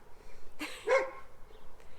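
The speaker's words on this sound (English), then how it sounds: "Charles and Oakley, the dogs, are having a good bark off now" Two dogs trade a short burst of barks, one sharp bark followed quickly by a second yappy one, moderately near over quiet outdoor background with faint later yips.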